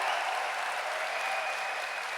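Dense, sustained applause from a large crowd at Gamescom Opening Night Live 2023, a loud even roar of clapping filling the whole moment without pause.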